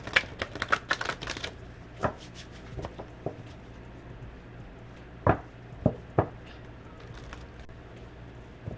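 Large, oversized tarot cards are shuffled in a few quick clattering bursts, followed by sparse individual card snaps and taps against a quiet background.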